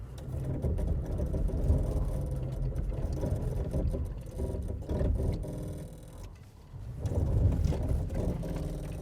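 Toyota Tacoma TRD Off-Road crawling through sand in crawl control, heard from inside as a steady low engine drone and mechanical whir with faint ticking, dipping briefly before rising again.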